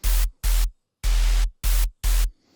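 A heavy deathstep bass synth with an added bright noise layer, five loud sustained hits separated by short gaps, each a dense wall of deep bass and crisp high hiss, ending abruptly with a faint tail.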